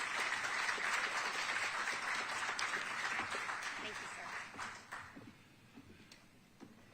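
An audience at an evening screening and panel event applauds the mayor with steady, dense clapping that slowly fades away toward the end.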